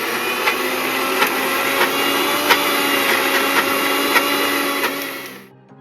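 A mixer grinder runs steadily, grinding coconut with salt for a Mangalorean jackfruit dish, its motor whine broken by small rhythmic knocks before it winds down and stops near the end.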